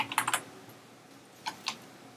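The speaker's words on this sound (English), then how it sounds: "Let's type in saxagliptin." Typing on a computer keyboard to enter a drug name into a search field: two short bursts of clicking keys at the start, then a few isolated keystrokes later, close and fairly quiet with no talking.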